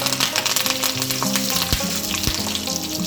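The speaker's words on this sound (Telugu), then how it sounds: "మంచిగా వేపుకోవాలి. తర్వాత ఎండుమిర్చి, 1-2 ఎండుమిర్చి, అలాగే కొద్దిగా కరివేపాకు." Dried red chillies and curry leaves crackle and sizzle in hot oil for a tempering for moong dal soup, a loud, close, continuous frying hiss with small pops.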